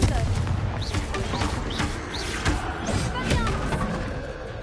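Confringo spell explosions in a video game: a dense run of booming blasts with swooshing, rising magical effects, loud and continuous across the stretch.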